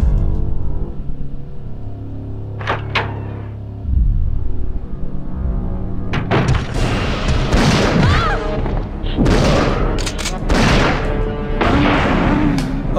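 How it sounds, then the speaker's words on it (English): Shotgun blasts in Resident Evil 3: Nemesis ring out as a series of loud booming shots amid heavy game action, after a quieter opening with a couple of sharp earlier hits. "Okay, three shotgun blasts."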